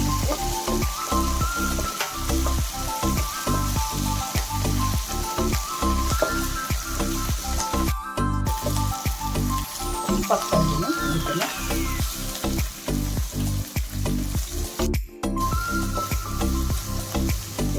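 Garlic frying in oil for masala churmuri, a steady loud sizzle with dense crackling and occasional stirring clinks, running continuously with brief dips, no talking.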